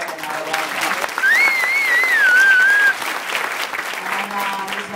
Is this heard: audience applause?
yes